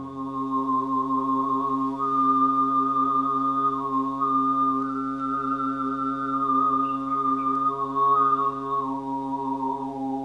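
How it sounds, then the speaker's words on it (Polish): Human throat singing: a steady droning fundamental with a strong whistling overtone melody shifting above it, sustained continuously and loud, close and alone with no other voices. "Tak brzmi śpiew gardłowy i pochodzi od człowieka,"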